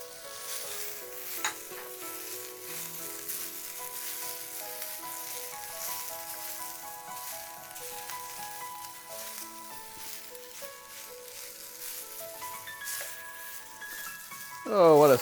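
Snow peas and zucchini sizzle and crackle steadily in a hot pan for a Chinese-style stir fry, with a continuous frying hiss, light utensil clatter and some background tones, and a louder burst of sizzle near the end.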